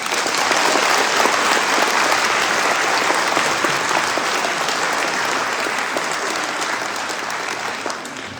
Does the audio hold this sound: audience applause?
yes